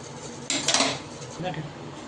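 Metal vessel set down into a steamer pot of boiling water while making khaman dhokla, a sharp clatter and clink of metal on metal, followed by a softer knock, close by over a low background hiss.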